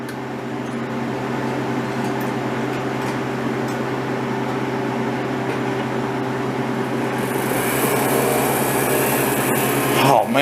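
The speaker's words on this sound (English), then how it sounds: "Let's see how it sounds with the vacuum on." A Harvest Right freeze dryer's vacuum pump runs with a steady mechanical hum, low drone and broadband whirr throughout, growing slightly louder and brighter near the end, close by.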